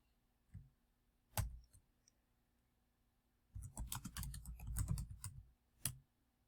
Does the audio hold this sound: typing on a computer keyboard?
yes